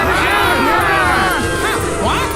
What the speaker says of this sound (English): But the crowd kept screaming louder and louder, "Crucify him!"